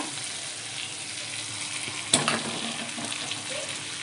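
Fried eggplant pieces drop into sizzling spiced masala in a pan for a Bengali hilsa and eggplant curry, a steady close frying hiss with a brief louder splash of sizzle as they go in.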